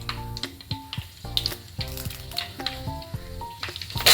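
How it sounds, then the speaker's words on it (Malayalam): Mustard seeds and fenugreek seeds spluttering in hot oil while cooking a dried prawn and mango curry: steady popping and sizzling with sharp crackles across the whole stretch, close and fairly loud. "എണ്ണ ചൂടായി വന്നിട്ടുണ്ട് അതിലേക്ക് അര ടീസ്പൂൺ കടുകും കുറച്ച് ഉലുവയും ഇട്ട് പൊട്ടിക്കാം"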